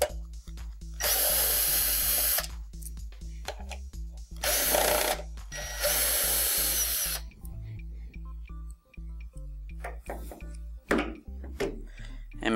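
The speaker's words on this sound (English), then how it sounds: "First we need to do is remove the two screws right here." A power drill removing screws from a DLP TV during a repair, loud whirring bursts that start and stop in a nearby indoor space, with a steady background hum and small clicks and thunks between the bursts.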